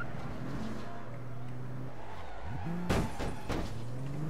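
A car engine in the APB Reloaded video game hums and shifts pitch as the car drives, with a sharp bang or slam partway through and another smaller knock after it, all at moderate volume.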